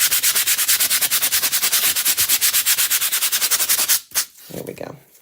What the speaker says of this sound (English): Just lightly sand. I'm using just like a little flexible sanding block.